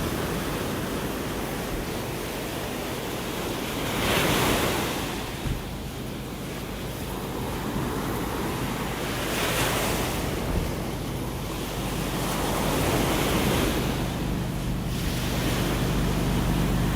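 Ocean waves wash onto a beach in North Naples, Florida on a breezy morning after a night storm, with steady broadband surf swelling and receding in slow surges, and wind buffeting the microphone throughout.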